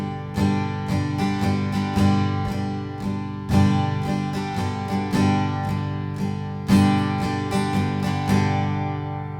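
An acoustic guitar strums a 6/8 pattern at a quicker pace, with crisp, evenly spaced strokes in a steady rolling rhythm, played close and alone.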